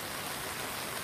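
Heavy torrential rain pouring and splashing, a thick continuous wash of noise heard up close, with no talking over it.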